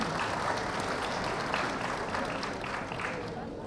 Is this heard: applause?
yes